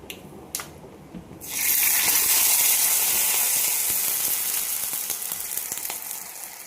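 Water poured into a hot pan of crackling mustard seeds and sugar for dhokla tempering bursts into a loud, sudden sizzle that holds steady, then slowly eases, with a few sharp crackles before and during it.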